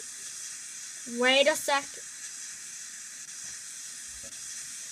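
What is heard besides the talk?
shower running in Minecraft furniture mod, video game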